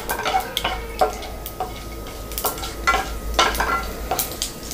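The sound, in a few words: mustard seeds spluttering while frying in a pan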